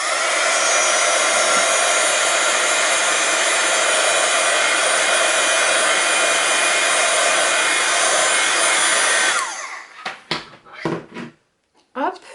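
A hair dryer blows steadily and loudly for about nine seconds, drying fresh green acrylic paint on a gel press printing card, then cuts off, leaving a few brief clicks and handling knocks.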